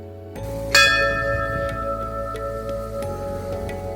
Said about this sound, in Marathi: मी मंदिराचा दरवाजा उघडला व घंटा वाजवून